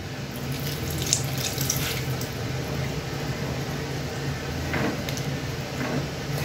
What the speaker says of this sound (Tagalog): Mag-a-add ako ng kaunting tubig.